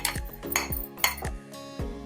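Fried dry fruits tumble into a pot of sheer khurma, giving a few distinct metallic clinks and knocks of a spoon against the pot, close and fairly loud, with no talking.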